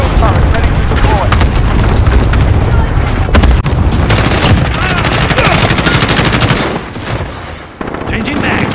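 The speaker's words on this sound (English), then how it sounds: "Enemy cluster strike incoming! Take cover!" Cluster strike explosions in Call of Duty: Modern Warfare, loud dense bursts of booms mixed with rapid gunfire, continuous and close, briefly dipping before resuming, with shouted voices in the mix.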